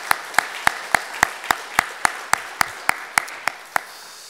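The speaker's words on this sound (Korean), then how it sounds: "우리 모든 영광 하나님 앞에 우리 박수로 올려드리겠습니다." A church congregation at an Easter worship service claps in unison, about fourteen crisp, evenly spaced beats in a steady rhythm.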